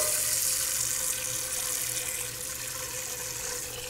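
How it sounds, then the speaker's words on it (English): Tap water runs steadily into a cooking pot at a sink, a continuous close hiss with no talking. "Put a little bit of water in."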